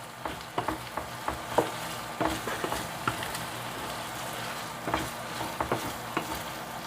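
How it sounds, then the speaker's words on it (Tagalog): Ground beef sizzles and crackles as it fries in a pan, with a steady broadband hiss punctuated by frequent sharp spatters and utensil scrapes from stirring; fairly close and moderately loud, no voices. "Ayan po, antayin lang po nating mag golden brown ng ating giniling na baka."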